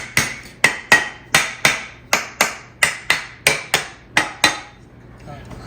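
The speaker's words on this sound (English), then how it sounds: "Got my little lead hammer." A small lead hammer taps a Griswold cast iron bunny cake mold about a dozen times in a steady rhythm, each knock sharp and ringing close by, then stops.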